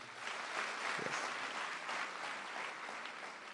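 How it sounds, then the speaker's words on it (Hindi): An audience applauds at a motivational speech event in Mumbai, a steady wash of clapping lasting a few seconds at moderate, slightly distant volume. "मैं चाहता हूं उनके लिए एक बार जोरदार तालियां हो।"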